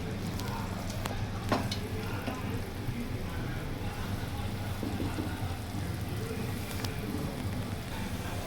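Ginger garlic paste fries with mushrooms and brown basmati rice in a pot, a steady crackling sizzle with faint scraping of stirring throughout, moderately close.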